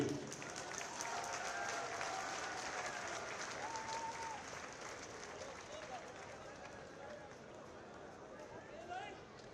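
At a bus stand inauguration ceremony in Jodhpur, a crowd claps steadily, fairly distant and soft, fading slightly over nearly ten seconds with a murmur of voices mixed in.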